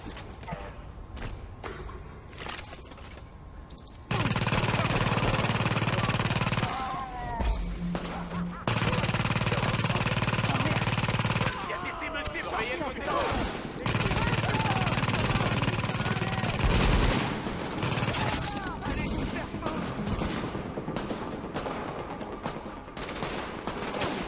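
Rapid automatic gunfire from The Division video game bursts repeatedly in long dense volleys, with explosions and crashes, while someone speaks over the shooting.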